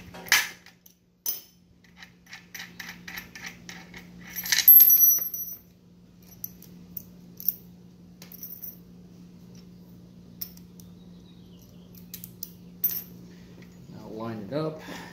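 Small metal clinks and taps of a lock washer and bolt being handled and threaded in on a lawn tool, with sparse close jingles and knocks over a low steady hum and a faint voice near the end.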